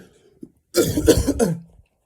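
A person coughs close to the microphone in a rough, harsh burst of several hacking coughs lasting about a second, followed by a brief throat-clearing rasp, then silence.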